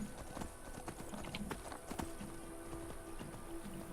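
A horse's hooves clip-clop at a steady trot through a swamp in Skyrim, the even beats close and moderately loud over a low ambient bed.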